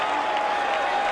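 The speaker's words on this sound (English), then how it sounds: "The roar from the crowd as it comes off the side of the boot from Steadman" A rugby league test crowd between the Kangaroos and Great Britain in 1992 roars as one, a dense sustained wall of cheering heard briefly under a commentator's voice.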